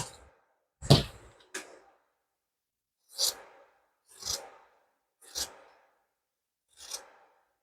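Scissors snipping fabric while trimming a pleated zippered bag: about seven separate crisp cuts, close and fairly quiet, with pauses between each snip and no talking.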